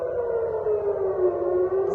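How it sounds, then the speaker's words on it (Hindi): A loud air raid siren over Tel Aviv during a missile attack wails continuously, its pitch sliding slowly downward, a droning tone that fills the whole stretch with no talking. "जोरदार सायरन बज रही है पूरे टेल अवीव में।"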